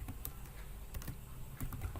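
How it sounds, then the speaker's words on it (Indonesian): Steady typing on a computer keyboard, a quick run of light, close clicks and taps continuing without pause and with no voice over them. "Tinggal kita ketikkan aja di sini."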